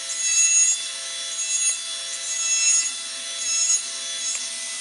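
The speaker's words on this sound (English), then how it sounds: "we're just going to use a straight handpiece just to adjust that now" A dental straight handpiece trims the labial and lingual acrylic flange of a denture, giving a steady high-pitched whine with a faint grinding rasp that swells and eases in a few short passes, close up with no talk.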